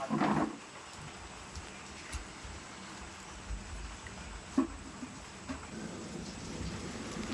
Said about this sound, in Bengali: আর আমাদের এখানে প্রচণ্ড বৃষ্টি হচ্ছে।